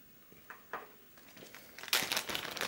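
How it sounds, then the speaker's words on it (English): A clean plastic bag is crinkled and crumpled around a finger in a few faint, soft bursts that swell into louder crackling near the end, with no talking. "use a clean plastic bag"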